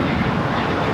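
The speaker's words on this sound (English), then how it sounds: "That prop plane is about to take off to Santa Ana. It's the Beach King Air 350." Beechcraft King Air 350 prop plane about to take off at LAX, a loud, steady engine drone held at close range for about a second.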